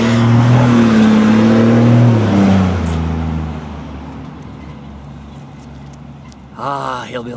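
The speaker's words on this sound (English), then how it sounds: "I'm gonna wait for this really loud truck to go by." A loud truck rumbles past close by, strong low engine drone that fades away over several seconds, followed by a brief quieter sound near the end.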